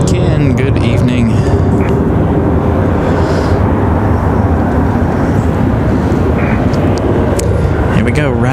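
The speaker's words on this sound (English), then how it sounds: "Another American 737 on the move." An American Airlines 737 airliner departs Raleigh-Durham airport with a loud, continuous jet engine roar that fills the whole stretch and stays steady, heard from fairly close with a heavy low rumble.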